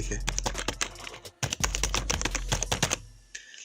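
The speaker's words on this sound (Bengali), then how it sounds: "এখানে আমরা টাইপ করব টাস্ক ম্যানেজার" Rapid clicking keystrokes on a computer keyboard in a quick, uneven burst, close and clear, with a short pause midway.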